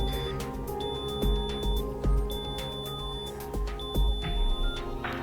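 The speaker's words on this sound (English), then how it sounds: "when he tried to leave, his PA alarm beeped again." A video game's PA alarm beeps in three repeated bursts of high electronic tones over a steady background hum, warning at an area boundary.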